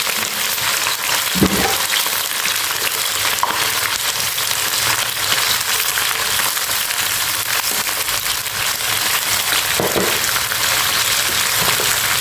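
Shredded cabbage stir-fries in a hot pan with fish sauce and garlic, giving a loud, steady sizzle and hiss with occasional scraping stirs. The sound is close and continuous, with no talking.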